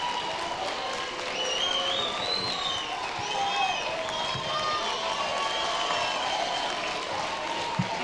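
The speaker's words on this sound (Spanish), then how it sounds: "Un fuerte aplauso para todas las autoridades que han venido a entregar premios con vosotros." A crowd applauds steadily for officials presenting awards at a FIRST LEGO League closing ceremony at UPM. The clapping is even and sustained throughout and mixes with an announcer's voice and hall reverberation.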